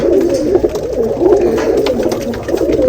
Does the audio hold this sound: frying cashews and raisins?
no